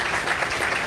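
An indoor audience at a talk applauds, giving a dense, steady wash of clapping that fills the short moment with no speech over it.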